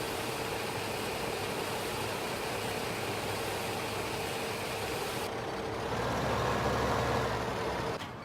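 A tractor engine from Farming Simulator 2015 hauls a load of canola, a steady droning hum that rises slightly in loudness toward the end, with no talk.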